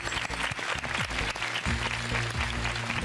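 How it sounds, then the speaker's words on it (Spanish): Studio audience applause on a Spanish-language beauty pageant show, a steady wash of clapping with continuous music running underneath and no voices standing out. "Un aplauso para Jenny."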